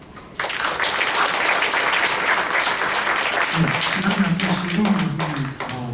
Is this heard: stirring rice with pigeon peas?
no